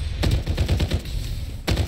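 Gunfire in the battle royale game Farlight 84: a rapid burst of shots in quick succession, loud and close, a short pause, then another burst at the end.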